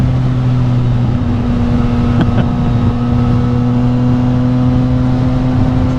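A 2019 Yamaha MT-09 motorcycle engine at steady cruising speed, a loud continuous drone with a constant pitch that runs throughout without a break.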